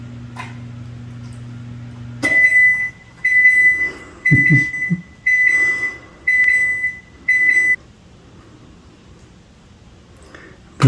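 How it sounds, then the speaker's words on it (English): A kitchen oven signals it is ready with six evenly spaced bursts of high electronic beeps, fairly loud and close, after a low hum stops; brief background noise follows, with no speech. "The oven's ready. It is ready. Makes a lot of noise when it's ready, doesn't it?"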